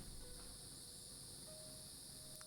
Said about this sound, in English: Good lord, those cicadas are noisy.